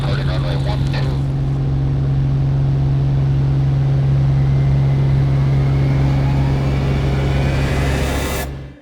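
A 1978 Bellanca propeller airplane runs at full power on its takeoff roll from a runway, a loud, steady engine drone with strong propeller hum holding throughout before cutting off abruptly at the end.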